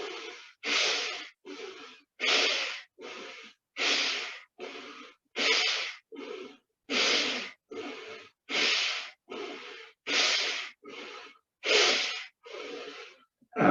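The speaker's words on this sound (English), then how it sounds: "begin to use the diaphragm to exhale and inhale" Rapid bhastrika breathing, forceful diaphragm-driven exhales and inhales through both nostrils, about twenty even, rhythmic breath bursts in steady succession, close and clear with no talking.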